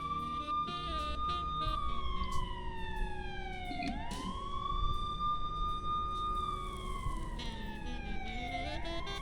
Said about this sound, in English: Cool ambulance.